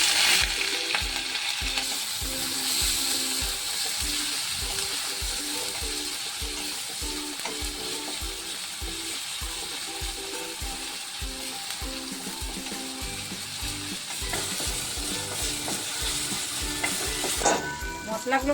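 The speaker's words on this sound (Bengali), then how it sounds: "মশলাগুলো ভাজা ভাজা হয়ে গেছে" White cumin and chopped green chillies sizzle in a pan of hot oil and ghee for a vegetable paratha, a steady close frying hiss with repeated stirring scrapes throughout.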